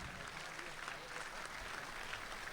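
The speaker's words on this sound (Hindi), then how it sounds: "मैं आपसे गुजारिश करूंगा कि आपकी तालियां उनका इस्तकबाल करें" An audience at a Dubai mushaira and kavi sammelan claps steadily to welcome poet Waseem Barelvi. The applause is dense, even and sustained from a large crowd, heard from within the hall.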